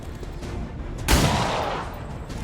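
A single pistol shot fires from a flank in XCOM 2, one loud, sharp crack that booms and then fades slowly over a steady game background.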